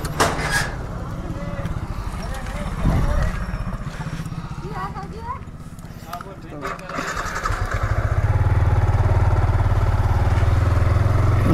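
A motorbike engine idles and then revs up, growing louder and steady as it rides off outdoors, with faint background chatter and street noise.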